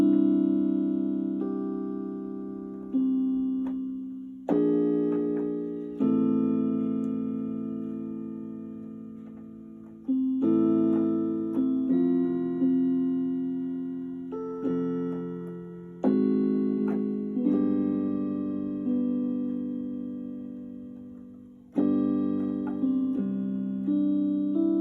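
Chord progression using tritone substitutions, played as a series of sustained chords struck one after another at an unhurried pace, each ringing and decaying before the next, heard alone.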